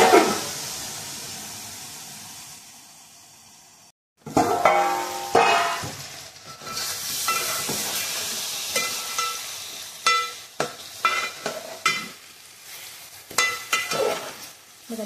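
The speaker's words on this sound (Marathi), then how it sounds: "बघा तेलामध्ये अशी थोडीशी परतून घ्यायची मच्छी" Fish pieces sizzling in hot oil seasoned with turmeric, cooked over a wood-fired chulha; a loud hiss as the fish hits the pan, then steady frying crackle with repeated clinks and scrapes of a utensil turning it.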